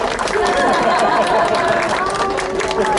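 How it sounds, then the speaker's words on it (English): Audience applauding a sea lion at a Coral World feeding presentation in St. Thomas, a dense, loud, continuous clapping mixed with crowd chatter and children's voices throughout. "Let's give him a nice round of applause."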